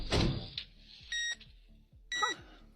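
Electronic countdown timer in a video game, giving two short bursts of bright steady beeping set apart by quieter gaps, with a rhythmic low ticking pulse running underneath.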